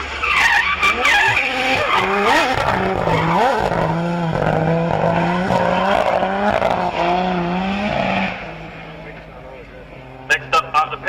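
Drift cars at Castle Combe circuit skid sideways with tires squealing and smoking, a loud sustained screech with wavering pitch over roaring engines that drops away near the end, leaving short sharp bursts.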